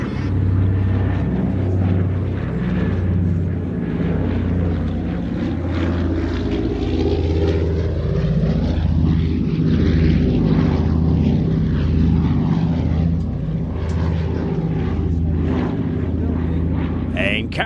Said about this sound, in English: just listen to that sound of the wonderful Catalina, introduced by the pilot